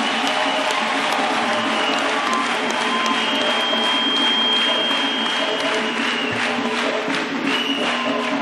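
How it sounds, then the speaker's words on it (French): A church congregation applauds for Jesus Christ in a dense, continuous clapping that fills the hall at a steady level, with some crowd voices mixed in. "Acclamons pour Jésus-Christ."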